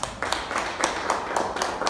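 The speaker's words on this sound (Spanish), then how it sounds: "Denle un aplauso fuerte al Señor." A church congregation claps for the Lord in a steady rhythmic beat, sharp regular claps repeating about every quarter second, moderately distant and fairly quiet.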